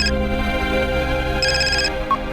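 A phone rings in a domestic drama scene, an electronic ringtone chirping in short bursts over a steady background of music-like tones.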